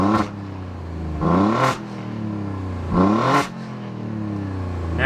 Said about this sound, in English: So now that we're in neutral, if I just rev,